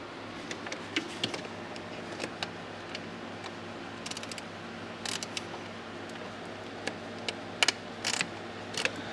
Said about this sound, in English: Which we have to get with our ratchet wrench again.